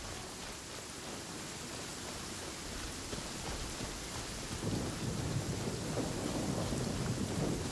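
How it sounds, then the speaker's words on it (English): Steady rain in a video game, Genshin Impact, hisses evenly throughout, with a low rumbling layer that thickens in the second half; no voices. "Okay, it's raining."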